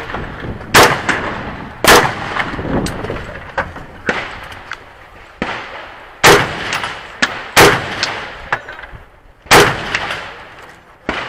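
Rapid gunshots at a two-gun shooting match ring out loud and close, about a dozen sharp blasts in uneven bursts with echoing tails.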